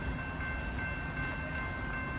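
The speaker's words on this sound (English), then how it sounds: "The next outbound Metra train from Chicago is now arriving in your station." A Metra commuter train rumbles steadily close by at Riverside, Illinois station, with a constant low roar and faint high metallic whine, no voices.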